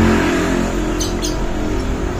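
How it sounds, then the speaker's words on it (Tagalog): A car engine idles steadily after a Griffin 180i RS8 high-flow racing air filter is fitted, a loud, continuous low rumble with faint hiss, no talking. "Mag-iiba kasi yung tono, yung idle ng ano natin, makina, yung RPM."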